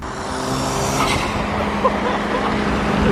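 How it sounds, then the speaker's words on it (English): A Nissan GTR with aftermarket intakes, its engine revving as the turbo spools with a rising whoosh and the intakes suck in air, loud and close, under continuous engine noise. "You hear the turbo spool and all the intakes just sucking all the air in."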